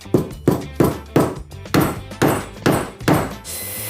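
Hammer driving a wooden dowel into a hole, eight sharp evenly spaced knocks about half a second apart, close and loud, with no one speaking.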